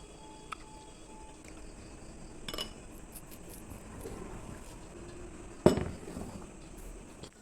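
Freshly washed dishes and utensils being put back in place in a room kitchen, with scattered clinks and one sharper clatter of dishware against a low background hum, no talking.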